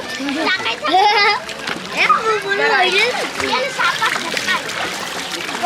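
Children swim and splash in a village pond, making bursts of sloshing water beneath lively overlapping chatter and excited kids' voices close by.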